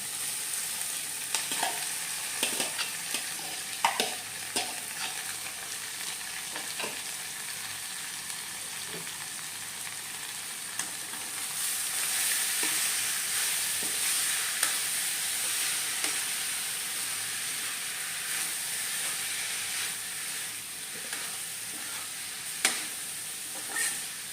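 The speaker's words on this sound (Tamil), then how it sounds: "உடச்ச உளுந்து போட்டு வதங்கிக்கிட்டு இருக்கு. மாசி எல்லாம் போட்டு பிணைஞ்சி வச்சுருக்கதை அதோட சேர்த்துக்குறோம் சட்டியில்." Broken urad dal and dried fish (masi) frying in a pan, a steady soft sizzle and hiss with occasional crackles and stirring scrapes, fairly quiet and continuous with no talk.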